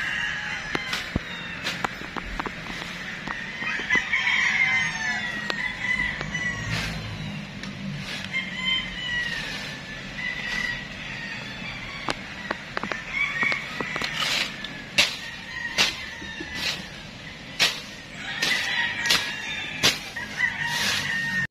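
Backyard chickens cluck repeatedly nearby while a rooster crows a few times, with faint background noise and occasional sharp knocks.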